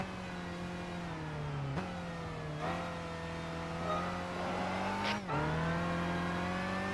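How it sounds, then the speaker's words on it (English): A race car engine in Gran Turismo 5 drones steadily at high revs, with a few sharp dips and surges as gears shift, loud and continuous with no talking. "the sound that this car makes"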